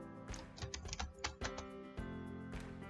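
Computer keyboard typing, a quick string of close, crisp key clicks followed by a few lighter taps.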